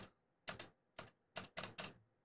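Keys clack on a SteelSeries Apex Pro keyboard in five or six crisp, close strikes, spaced irregularly, some paired in quick succession, with near silence between them.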